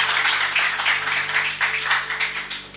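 Audience at a Hindi poetry and shayari event clapping for a performer named Deepak, a moderate, slightly uneven applause with rhythmic surges of hands beating together in a room with a steady background hum.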